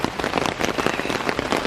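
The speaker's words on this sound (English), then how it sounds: "This rain is on 100 right now, man." Heavy rain pouring down around a parked Honda S2000 on a wet day, a loud dense patter of drops on surfaces with no talk.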